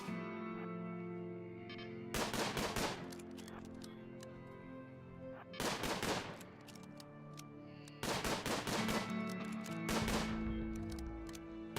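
Colonists shoot in RimWorld, with three separate volleys of quick rifle shots, each a dense cluster of cracks several seconds apart over a low, steady background tone.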